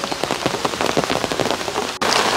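Steady autumn rain falls on a flower garden, a dense, continuous patter of drops on leaves and surfaces, close and fairly loud throughout with no voices.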